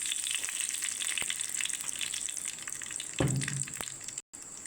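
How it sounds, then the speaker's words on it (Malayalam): Fenugreek and mustard seeds crackle and splutter in hot oil in a heated pan, a quiet continuous sizzle with scattered pops and one brief louder burst of spattering. "ഉലുവ പൊട്ടി ഇച്ചിരി കടുക് ഇടുകയാണ്"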